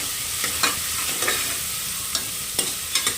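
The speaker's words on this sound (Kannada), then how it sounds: "ಇದು ಕೂಡ ನೀಟಾಗಿ ಫ್ರೈ ಆಗಿದೆ ಅಂದರೆ ಎರಡು ನಿಮಿಷ ಅಷ್ಟೇ ಎಣ್ಣೆಯಲ್ಲಿ ಫ್ರೈ ಆಗಲಿ" Oil sizzling steadily in a pan while radish greens fry, with several sharp scrapes and clinks of a spoon stirring at irregular intervals.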